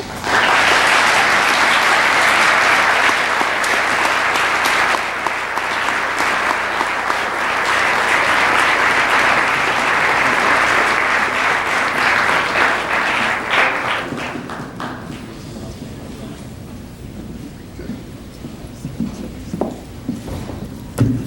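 A university lecture audience applauds after a talk on race and genetics in Islam, sustained dense clapping for about fourteen seconds, then thinning to scattered claps, shuffling and room murmur.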